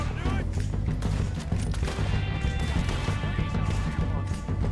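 Gunfire in Red Dead Redemption 2 during a train heist, sounding as dense, continuous shooting under a loud game soundscape, with a voice speaking over it.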